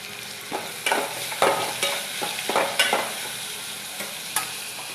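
Chopped tomato, coconut, peanuts and dried chillies frying in a pan, with a continuous sizzle broken by repeated scraping stir strokes, close and fairly loud.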